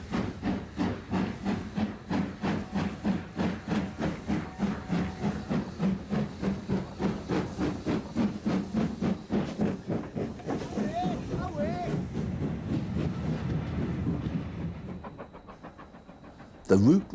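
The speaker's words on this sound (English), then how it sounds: "A steam-hauled excursion train departs on its journey to Eastgate" Steam locomotive hauling an excursion train out of a station in Weardale, 1993: steady rhythmic chuffing exhaust beats with hissing steam, close and loud, easing off before a final clatter.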